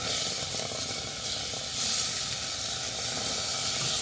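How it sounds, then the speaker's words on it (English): Onion and tomato dropped into hot oil for masala puri, a loud, steady sizzling hiss that continues throughout and swells slightly midway, with no voices. "So now I have 1 onion and 1 whole tomato. I'm just going to add it in."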